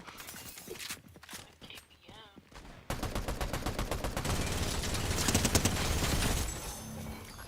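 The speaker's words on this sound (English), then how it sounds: "all this gunfire and footsteps is also ours" Video game gunfire in Call of Duty Zombies: after scattered shots and effects, a sustained burst of rapid automatic fire rattles loudly for several seconds, with mixed game sounds around it.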